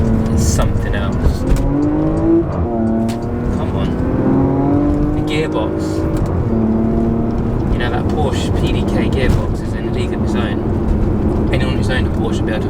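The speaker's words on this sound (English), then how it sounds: "my number 2 reason really is the soundtrack and the engine that comes with this car" A Porsche Macan GTS engine is driven hard, its loud exhaust note climbing and dropping through the gears with sharp pops over a continuous road rumble, while a voice talks over it.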